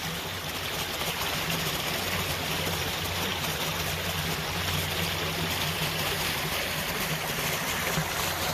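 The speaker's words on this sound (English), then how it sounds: "the water come from the mountain, go down to the lake" Mountain stream water running down toward the longest lake in Washington at Lake Chelan State Park, a steady broadband rush and trickle with a low hum beneath, continuous and even with no voices.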